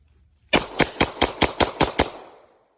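Rapid gunfire from a Glock 22 Gen 4 .40 caliber pistol: eight sharp, loud reports in quick, even succession, with a short ringing decay after the last shot.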